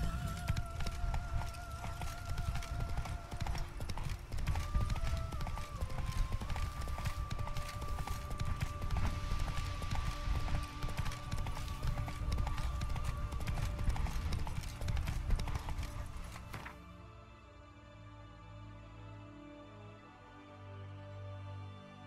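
Hooves of the horse Roach galloping in Witcher 3, a steady rapid clip-clop running for about sixteen seconds under a game music bed, then stopping as the music carries on alone.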